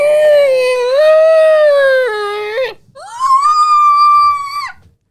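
A person imitates a whale scream with two long, wavering high-pitched vocal wails, the first rising and dipping before breaking off, the second held steady then fading, loud and close.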